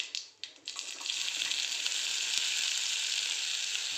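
Hot oil tempering for a chana jor garam recipe, a bright continuous sizzle that swells and holds steady after a few brief sputters at the start.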